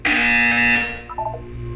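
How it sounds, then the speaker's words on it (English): A loud, harsh electronic buzzer from the video game Portal 2 blares steadily for nearly a second, then fades into a low hum with a few short tonal blips. "You will hear a buzzer."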